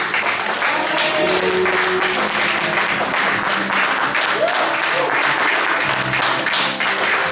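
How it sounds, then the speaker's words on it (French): Church congregation applauding and cheering at a Sunday worship service, steady dense clapping with voices shouting throughout, loud and close. "je veux que tu applaudisses et tu cries gloire à Dieu"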